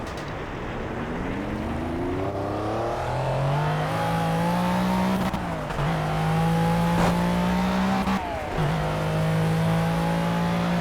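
A car engine in the Project CARS driving simulator, revving up through rising gears with brief dips at each shift, then holding a steady loud drone, close and continuous.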